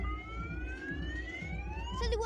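A car alarm wails in a slow rising tone that climbs steadily and then shifts pitch near the end, heard faintly over a low rumbling background.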